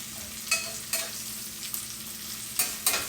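Onions sauté in a frying pan with a steady soft sizzle, broken by several sharp stirring scrapes at irregular intervals, close, with no voices.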